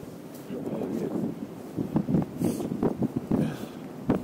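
Gusty wind buffets and rumbles across the microphone in uneven surges while people talk nearby.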